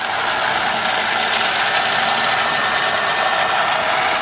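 A 12,000 pound Warn winch hauls its cable tight, giving a steady, loud mechanical whir and ratcheting grind that runs without a break and sits close to the microphone.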